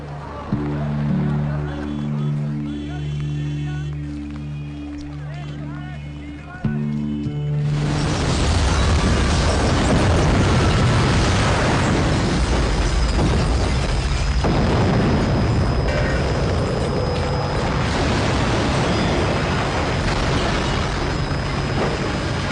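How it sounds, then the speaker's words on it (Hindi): A sudden deep bomb blast booms in a building basement and gives way to a long, roaring rumble of debris and noise, after a stretch of dramatic background music. "यह दिल दहला देने वाला धमाका"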